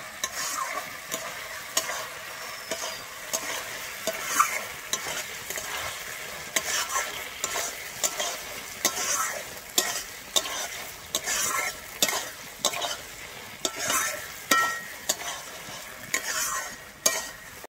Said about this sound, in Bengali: ভেজে রাখা শিমটা কিন্তু দিয়ে ভালোভাবে মশলার সঙ্গে মিশিয়ে নিচ্ছি